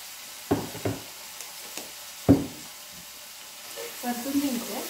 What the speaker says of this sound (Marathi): परतून घ्यायचं आणि याला गोल्डन ब्राऊन होईपर्यंत ठेवायचे।